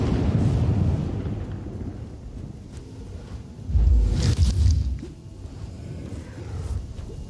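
Lightning attack in a King Arthur video game, a low rumbling crackle with a heavier boom surging midway, over a dark, steady game ambience.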